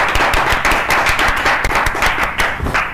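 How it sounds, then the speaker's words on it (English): Enthusiastic applause greeting a professor at a photography webinar, close, dense hand clapping with sharp individual claps, sustained loudly throughout without pause. "let's give big round of applause to Professor Panizza Allmark."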